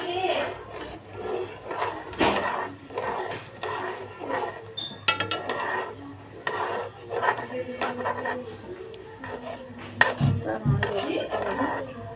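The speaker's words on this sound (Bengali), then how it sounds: "দিয়ে নেড়ে চেড়ে দিচ্ছি" Chicken and vegetable soup being stirred in a pot with an egg added, giving repeated clinks and scrapes of a utensil against metal in an irregular rhythm, close by, with a voice talking over it.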